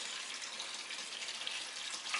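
Water pours into a bag of pottery glaze mix in a soft, steady splashing trickle, fairly quiet and uninterrupted.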